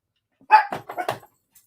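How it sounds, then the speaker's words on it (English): A dog barks nearby, a quick cluster of four or five sharp, yappy barks in about a second, fairly loud against an otherwise quiet indoor background. "No barking"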